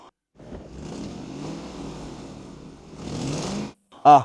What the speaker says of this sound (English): One cylinder isn't firing and the exhaust manifolds are leaking.